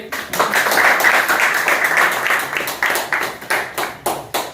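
Audience applause greets a guest being called up at a motivational New Year gathering, dense clapping that swells loud for several seconds and then thins into scattered individual claps.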